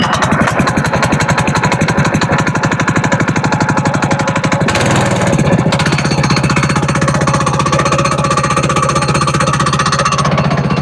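Petrol engine of a SuperSplit log splitter, choked and pull-started, running with a loud, steady rapid chugging throughout, briefly faltering midway before settling back into a continuous close-up run.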